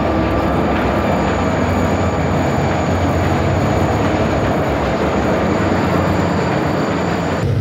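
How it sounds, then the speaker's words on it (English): An eastbound Erie Lackawanna freight hauled by GP-35 diesel locomotives passes a road crossing near Port Jervis with a loud, steady roar of engines and rolling wheels. The sound holds close and constant the whole time. "Here's an eastbound with GP-35s at Eddy Farm Road Crossing, Sparrowbush."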